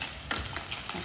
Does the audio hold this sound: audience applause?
no